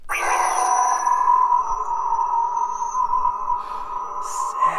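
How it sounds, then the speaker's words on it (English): A Mandalorian Darksaber neopixel toy lightsaber plays its blade ignition effect, a steady loud electronic hum that holds throughout with a brighter flare at the start and a short crackle near the end. "I just moved the Darksaber sounds over to that one"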